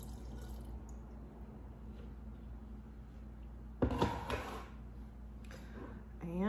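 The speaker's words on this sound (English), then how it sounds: "I just added a little water because my brine and everything in here is already very salty" A small splash of water is poured into a jar of fermenting kimchi, a short close pour in the middle of an otherwise quiet stretch, followed later by a faint brief rustle.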